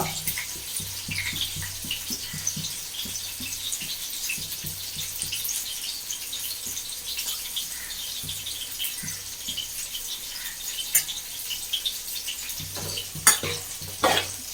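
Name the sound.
shrimp sprinkled into pan and frying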